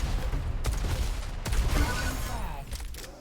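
Lightning gun shaft fire in a Quake duel match, a dense, steady buzzing beam with a few sharp bursts, loud and continuous across the moment.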